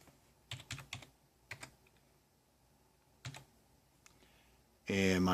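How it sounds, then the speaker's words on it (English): Keystrokes on a computer keyboard as a zip code is typed: a few quick clustered clicks, then isolated taps spread over several seconds, close and fairly quiet, ending in a louder burst of broadband noise. "and you type in your zip code."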